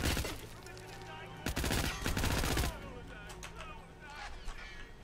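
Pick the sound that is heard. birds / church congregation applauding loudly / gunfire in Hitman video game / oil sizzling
gunfire in Hitman video game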